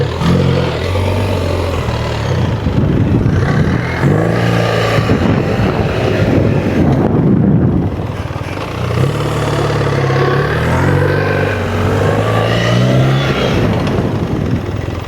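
A BMW R1300GS adventure motorcycle slips its rear wheel during a slow turn, giving a loud, close engine drone that rises and falls with the revs for the whole stretch.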